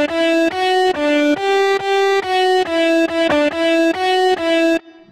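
A bright, distorted synth drop lead, with sidechain, plays a chopped rhythmic melody of steady repeating notes, loud and buzzy, cutting off abruptly near the end.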